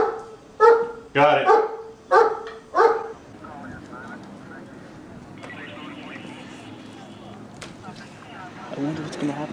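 A dog barks loudly in a family drama film, giving four or five sharp close barks in quick succession before the sound fades into quieter background noise and low distant rumbling, with a brief spoken remark.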